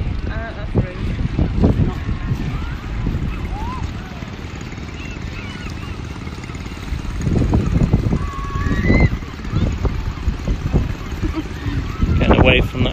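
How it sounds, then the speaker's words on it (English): A low, rumbling boat engine drones steadily throughout by a pier, with people chatting over it and wind buffeting the microphone. "That boat sounds like Rachel after a curry."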